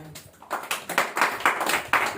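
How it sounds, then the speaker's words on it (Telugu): A church congregation claps together in quick, uneven bursts that build into several strong volleys at close range. "గట్టిగా చప్పట్లు కొడదాం"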